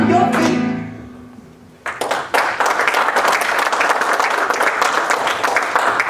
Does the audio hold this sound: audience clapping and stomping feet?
yes